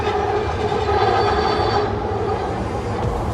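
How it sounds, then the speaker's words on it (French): A loud metro train rumbles past at close range with steady roaring, rattling wheel noise and a high metallic whine, filling the whole moment. "le métro est assez bruyant donc je recommence."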